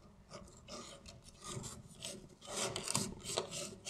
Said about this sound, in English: I'm going to put the sandpaper behind here like this